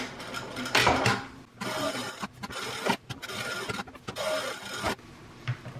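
Sewing machine stitching a tote bag in several short bursts of close mechanical running separated by brief pauses and light handling noises, moderately quiet.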